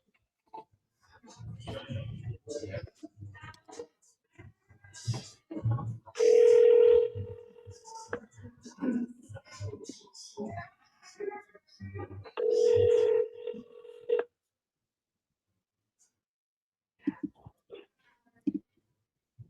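An outgoing phone call rings out with two long, steady ringback tones heard close up, with some softer dialing-like sounds between them and a person speaking quietly in the gaps.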